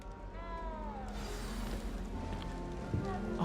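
A small cat meows in a drawn-out, wavering cry, then gives a few shorter mews against a soft background, with a person's voice nearby.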